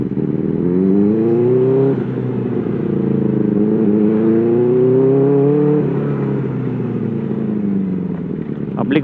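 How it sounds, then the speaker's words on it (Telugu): A Benelli 600i four-cylinder motorcycle fitted with an under-seat IXIL exhaust rides past loudly, its engine note rising and falling through two smooth throttle sweeps with a steady, droning roar and no talk. "ఇది అండర్ సీట్ ఎగ్జాస్ట్ కదా,"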